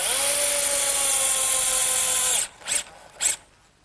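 A power drill drives a 2-inch galvanized bugle head screw into a pair of wooden sandbox legs in one steady, loud whir of about two and a half seconds, then two short bursts as the screw seats.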